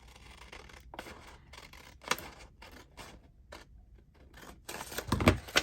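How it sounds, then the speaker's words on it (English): Scissors snip through paper in a run of quick, crisp cuts, close and fairly quiet, ending in a louder rustle of paper being handled while making single pages with double pockets. "So first of all, we need to cut across here."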